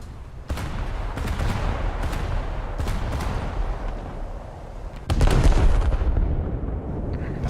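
Battleship guns fire in a naval combat game, heavy booming salvos over a constant low rumble of wind and sea, with a louder, deeper blast toward the end.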